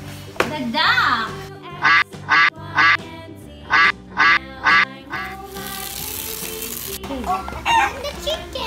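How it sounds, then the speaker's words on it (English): A toy duck gives a rapid series of six or seven loud, evenly spaced squawking quacks, with voices talking before and after. "The duck."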